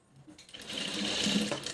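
Sewing machine running steadily as it stitches a blouse puff sleeve, a close, continuous mechanical whir that builds in speed and then eases off near the end.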